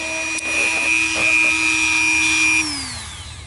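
A Dremel rotary tool whines at a high steady pitch while cutting a concrete piece, holding level for a few seconds before spinning down with a falling tone.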